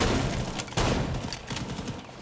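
Explosions and gunfire in Rainbow Six Siege on the Clubhouse-style Classical Hall map, a loud, dense barrage of sharp blasts and thuds in quick succession, with one heavy hit near the middle.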